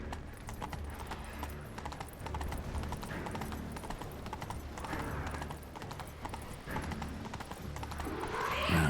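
Roach, the horse in The Witcher 3: Wild Hunt next-gen, gallops with a steady, continuous clip-clop of hooves that carries close and even through the whole stretch.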